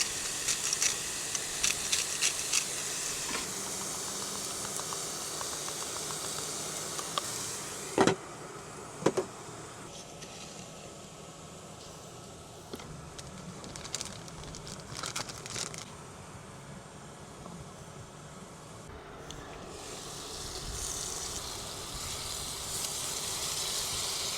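Double burger patties sear in a pan inside a Tesla, giving a steady faint sizzle and hiss with a few brief clicks and crinkles over it.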